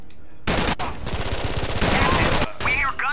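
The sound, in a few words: gunshots in a video game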